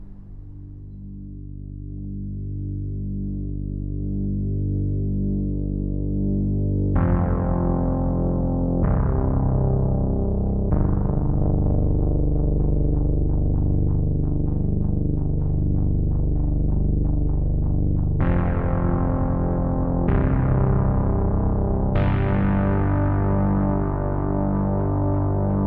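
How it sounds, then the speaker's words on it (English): A vocoder-processed voice delivering a scored poem, robotic harmonic tones held steady at full loudness with sharp swells of bright buzz entering at several points over a sustained musical bed. "That's a really interesting vocoder sound."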